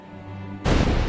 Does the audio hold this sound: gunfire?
yes